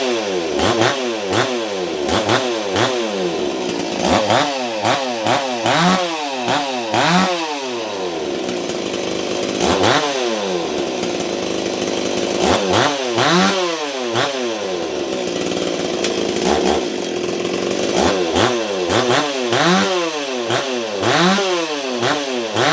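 A ported Stihl 024 AV chainsaw revs repeatedly in loud, rising and falling bursts, with sustained high-pitched stretches between throttle blips, close and alone without talk.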